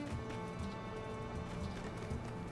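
Horse hooves clop softly in the video game My Time at Sandrock, a faint steady rhythmic patter over a constant low background hum.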